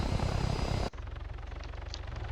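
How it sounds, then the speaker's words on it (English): A Huron helicopter landing in the video game Arma 3, loud rotor and engine roar that cuts abruptly to a softer steady whirring thump of spinning blades. "So we have one chopper landed."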